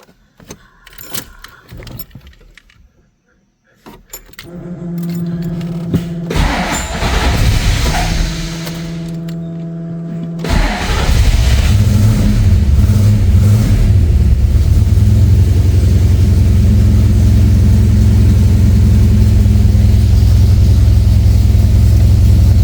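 A Mustang with a swapped-in 351 Windsor V8 fires up after some jingling keys, idles briefly, then roars loudly and steadily as it's floored in second gear, the deep engine drone dominating to the end.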